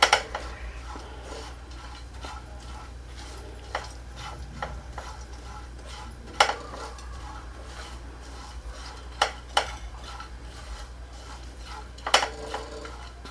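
A spoon scrapes and taps against a pan while desiccated coconut is stirred and roasted, quiet continuous scraping broken by several sharp clinks at irregular intervals, with no talking.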